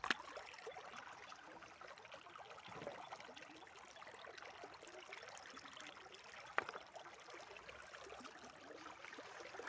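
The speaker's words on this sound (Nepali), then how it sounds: "अब चाहिँ हामी पानी लगाउनु लागेको छ खेतमा" Water from an irrigation channel flowing into a farm field in rural Nepal, a soft, steady trickle and gurgle heard close by but faint, with a couple of small splashes.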